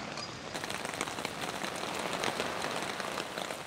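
A rain squall falls steadily on a wilderness campsite, a dense even hiss of drops hitting surfaces, close and continuous without a break, and no one speaks.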